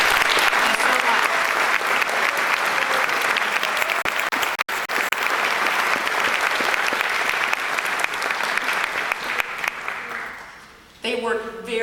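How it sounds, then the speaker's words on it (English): A standing concert audience honours students with sustained, dense applause for about ten seconds before it fades away and a voice begins speaking. "So could I ask you all please stand to allow us to recognize you with our applause this evening"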